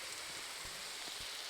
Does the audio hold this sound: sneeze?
no